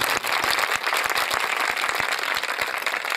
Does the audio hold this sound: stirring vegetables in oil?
no